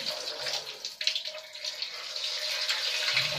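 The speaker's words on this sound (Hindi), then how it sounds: "पानी देखो कितना फुल प्रेशर से आने लग गया है।" Water rushes steadily at full pressure from a tap through the radiator of a Bajaj geyser under repair, a continuous close hiss with slight surges and no talk.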